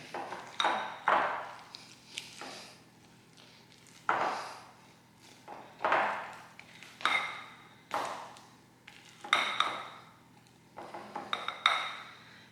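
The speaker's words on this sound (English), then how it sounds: "I'm going to use my spatula to incorporate the cheese in there" A spatula stirs cheddar cheese into jalapeño cornbread batter in a bowl, giving repeated scraping and clinking strokes at an uneven rhythm, close and moderately loud.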